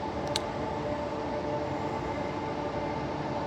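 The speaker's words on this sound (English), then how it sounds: "There's the NIS train. It just went through now." An Armadale Line passenger train rumbles steadily through a station platform at night, a continuous low rolling drone of wheels on rails with a brief high squeal near the start.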